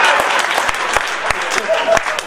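Audience applause at a Hindi comedy poetry gathering in Kanpur: a dense, steady wash of clapping with scattered sharper claps, sustained throughout at close range, with a voice speaking over it.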